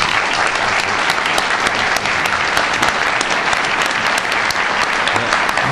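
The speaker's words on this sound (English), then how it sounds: "please join me in a warm round of applause for the extraordinary and inspirational Ronnie Kasrils." A large audience at a talk on apartheid breaks into loud, sustained applause to welcome a speaker, with dense, steady clapping throughout.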